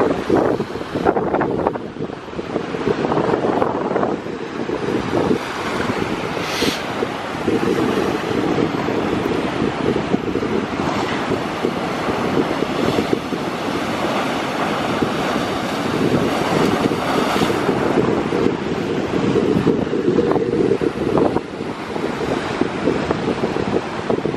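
Waves surge and break along the shore at full high tide, with strong wind buffeting the microphone in a steady, loud, continuous roar lasting the whole stretch.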